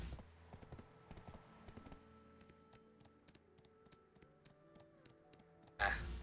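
Horse hooves clip-clopping in a horse race in the Black Desert video game, a steady run of light taps under a low hum, ending with a louder burst of sound.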